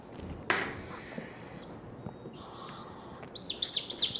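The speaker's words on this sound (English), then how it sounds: "So this is a baby tropical screeching owl." A baby tropical screech owl gives several short, shrill calls, spaced irregularly, with a busier burst of sharp chirps at the end. The calls are fairly close and heard over a soft background murmur.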